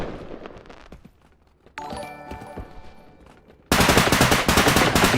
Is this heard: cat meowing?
no